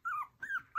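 A four-week-old Schnoodle puppy whimpers close up in three short, high, wavering cries with brief gaps between them.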